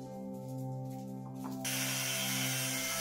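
An angle grinder bites into tempered steel, cutting off the excess tang of a Viking-style knife blade, rising into a loud, bright, sustained grinding hiss over a steady motor whine.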